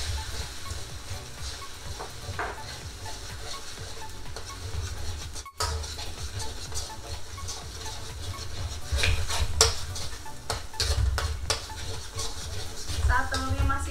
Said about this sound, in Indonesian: Lalu aku aduk.